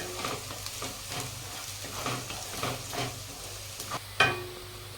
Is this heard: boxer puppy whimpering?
no